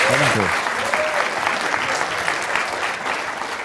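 Audience applause for a contestant at a science-communication competition final in Ireland, a sustained even roar of many hands with faint voices underneath, steady through the whole stretch.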